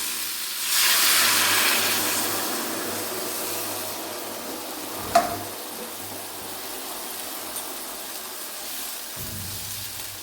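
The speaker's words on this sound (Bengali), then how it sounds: "এবারে জল দিয়ে দেবো" Water hits a hot pan of frying bata fish curry with green chillies, setting off a loud, rushing sizzle that settles into a steady steamy hiss, with one sharp clink near the middle.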